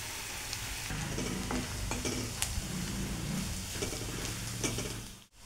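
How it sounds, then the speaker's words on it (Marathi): Onion, curry leaves and grated ginger fry and are stirred in a pan for a Marathi kurdai vegetable dish, with a steady close sizzle, scraping stirs throughout and no talk. "खिसलेलं आलं घेतलेलं, कढीपत्ता, कांदा टाकून भाजून घ्यायचं।"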